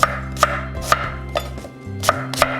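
A knife chops an apple on a cutting board, with about six sharp, irregularly spaced chops up close and no voices.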